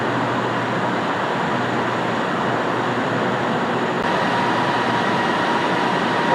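A Kelana Jaya line LRT light rail train at a station, heard as a steady loud rumble and wheel roar of the train moving along the platform, continuous throughout with no talk.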